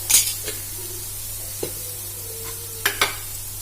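Grated carrot in a little oil in a kadai for methi carrot chutney, stirred with a few scraping strokes, soft crackle and light sizzle between them, close and fairly quiet.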